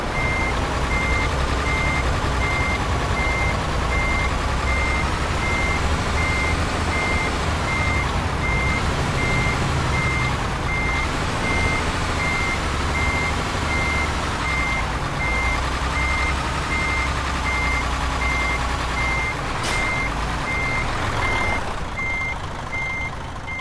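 Reversing truck in Euro Truck Simulator 2, a steady, loud repeating backup beep pulsing evenly over a constant diesel engine drone, with the engine swelling and easing a few times.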